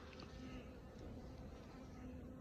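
Honeybees at a Flow Hive make a steady, close, dense buzzing hum with a few individual bees passing near.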